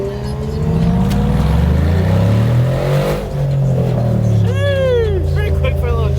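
A nitrous-equipped McLaren 720S sports car revs and accelerates hard, a loud, close engine roar climbing and falling through gears, with people talking over it.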